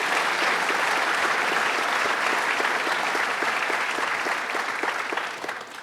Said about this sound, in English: Let's give her a round of applause, Assemblywoman Gunther.